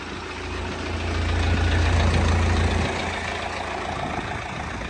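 A tractor plowing a field runs steadily on its own, with a deep, continuous engine rumble that swells briefly in the middle and then settles.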